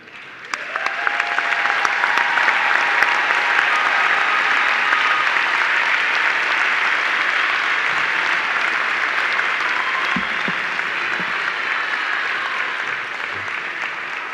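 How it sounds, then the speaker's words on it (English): Sustained applause from a commencement ceremony audience greets the graduating class, a dense, even wash of clapping that swells quickly and holds for over ten seconds before easing slightly. "Would you join me in applause for these graduates?"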